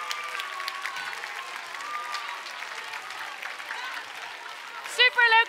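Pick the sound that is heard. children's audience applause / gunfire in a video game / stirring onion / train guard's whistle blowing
children's audience applause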